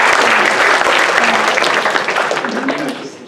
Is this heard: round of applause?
yes